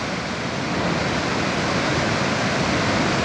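Big swell waves breaking at Playa El Socorro on Tenerife's north coast, a loud, continuous roar of surf filling the whole clip with no voices.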